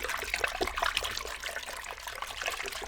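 Warm water mixed with Dawn dish detergent trickles and splashes softly, a steady close-up dribble that continues without pause.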